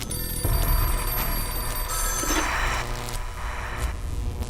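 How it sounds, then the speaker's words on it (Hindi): A telephone rings with a bright, trilling bell in repeated bursts, fairly loud and close, with no voices, in a Hindi TV drama. "अचानक कैसे फोन बज रहा है?"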